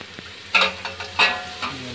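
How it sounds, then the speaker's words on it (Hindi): Onions softening in a pan for an Awadhi white mutton korma, with a steady low sizzle and three short scraping stirs about half a second apart, close up and with no talking. "हमने प्याज डाल दी है, इसको हम थोड़ा सॉफ्ट होने तक पकाते हैं।"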